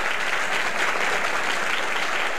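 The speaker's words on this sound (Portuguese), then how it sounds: "aqui no auditório da Embratel, aplausos para o foguete" An auditorium audience at Embratel applauds the 1985 Ariane rocket launch carrying the Brasilsat 1 satellite, with dense, continuous clapping at an even level throughout and no talk over it.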